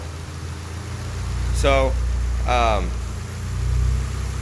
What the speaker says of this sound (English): the car doesn't want to idle because this is a vacuum leak